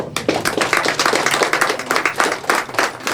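Clapping rings out at a Beninese political gathering, dense and continuous with rapid, uneven hand claps that stay loud for the whole stretch.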